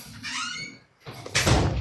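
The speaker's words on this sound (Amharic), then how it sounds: "ዝጋው በሩ" A door squeaks as it swings, then after a brief pause shuts with a dull thud, close by.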